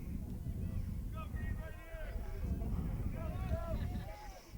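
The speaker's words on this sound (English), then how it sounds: "it's getting windy. I have my jacket on now. The breeze has picked up." Wind gusts across the microphone at an outdoor girls' high school soccer match, a low steady rumble that swells and eases, with faint, distant voices calling in the background.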